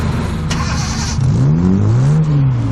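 A rental Corvette's engine burbles, then revs upward in rising and falling sweeps as it pulls away, close and loud, with a short sharp click early on.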